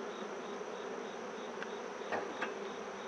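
Honey bees buzz steadily and faintly around an open hive during an equinox inspection, a continuous soft drone with a few louder passes as individual bees fly close.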